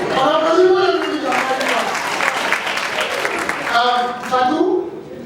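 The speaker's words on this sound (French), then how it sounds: "On applaudit pour le public." Crowd applause at a quiz show final in a hall, a continuous wash of clapping under someone talking loudly over it, swelling near the end.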